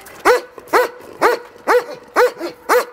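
Dogs bark close by in a quick series of six or seven sharp, evenly spaced barks, some followed by a softer yip, with quiet gaps between.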